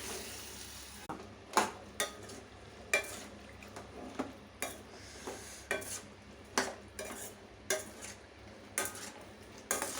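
Chickpeas fried and stirred in a quick-heating clay pot, a regular series of sharp scraping clacks from the spoon against the pot over a faint sizzle.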